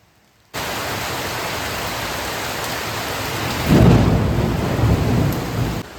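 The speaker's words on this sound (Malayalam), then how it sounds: "മഴ ഇടി." Heavy rain pours down at night in a steady, dense hiss, and a deep roll of thunder swells midway before fading back under the downpour.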